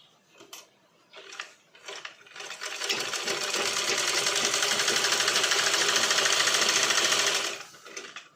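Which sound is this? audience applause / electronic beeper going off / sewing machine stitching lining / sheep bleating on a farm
sewing machine stitching lining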